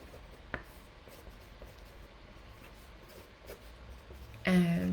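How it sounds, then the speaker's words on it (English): Handwriting on paper during a clairvoyant card reading, heard as a faint, steady scratching of pen strokes in a quiet room. A voice starts briefly at the very end. "we'll just write down a few others"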